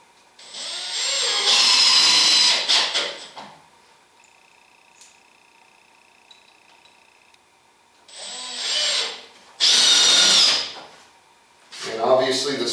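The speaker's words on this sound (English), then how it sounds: "Got to hold this a little bit so that I can get the drill in the correct position" A power drill driving screws into a wooden reloading bench under construction, two loud whirring bursts near the start and another pair later, with quiet stretches between and a voice talking.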